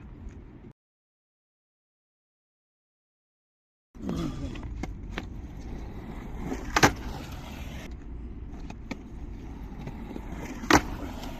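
A skateboard rolls along, then clacks and lands as the rider drops off a ledge, with wheel rumble and a few sharp board impacts after a brief silent gap at the start.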